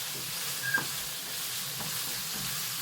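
Pork and fish cake frying in a pan, a steady soft sizzle with light stirring scrapes and a brief clink, close but fairly quiet, no voices.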